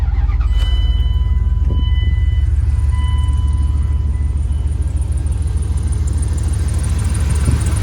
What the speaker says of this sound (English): now it should crank right up.